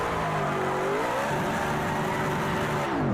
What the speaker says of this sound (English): I have to give it a little nip of the handbrake.